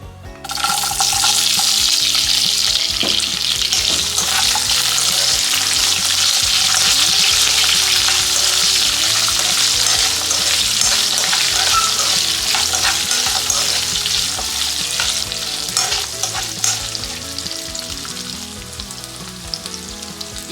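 Finely chopped Indian gooseberries (amla) frying in a hot pan, a loud, steady close sizzle with occasional stirring scrapes throughout, no voices.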